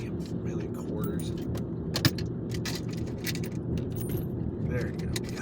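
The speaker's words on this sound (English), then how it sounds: "just a bunch of damn change in the cup holder" Loose coins rattle and jingle in a car's cup holder, a steady metallic clatter over the drone of the moving vehicle, with someone speaking at times.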